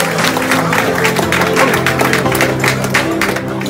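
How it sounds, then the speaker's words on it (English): A small group applauds right after a coin toss at an AFC Bournemouth versus Watford matchday, the claps steady and close over a dense, continuous wash of background noise for a few seconds. "Round of applause."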